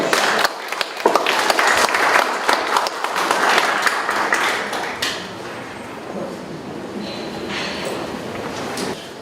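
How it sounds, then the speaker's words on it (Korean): An audience at a security policy forum applauds to welcome a speaker, a thick burst of clapping that tapers into lighter, scattered claps and some room noise. "여러분 큰 박수로 환영해 주십시오"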